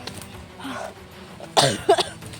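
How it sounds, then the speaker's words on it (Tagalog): A couple of sharp coughs close by, following a softer breathy sound, over faint wind. "Ay, inuubo din ako."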